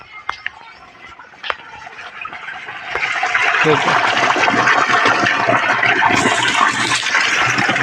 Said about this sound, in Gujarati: પાણી આવવાનું ચાલુ થઈ ગયું છે આપણે